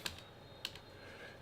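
A computer keyboard being typed on as a file name is entered, a few quiet, sparse keystrokes with short gaps between them in a calm room.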